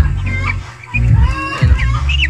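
Seven-day-old broiler chicks on a farm chirp and cheep continuously in a dense, close flock, with scattered brief higher peeps over a steady low murmur.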